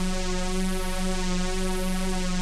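A sustained Arturia JUP-8000 V software synthesizer tone with a buzzy, distorted harmonic edge holds steady and loud, with slight phasing movement throughout.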